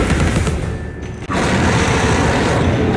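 Gunfire in the video game Alice: Madness Returns, a dense, loud burst of rapid shots that breaks off for an instant and then resumes as a steady booming barrage, with no talk over it.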